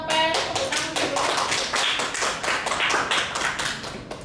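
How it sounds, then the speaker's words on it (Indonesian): A school class claps steadily and briskly for about four seconds, a dense burst of applause with no talking. "Tepuk tangan dulu."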